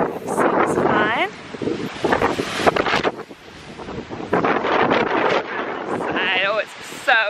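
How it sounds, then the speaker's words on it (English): Strong hurricane gusts from Hurricane Irma in Kissimmee, Florida buffet the microphone in loud rumbling bursts while a person talks over the roar. "Oh, it's so windy"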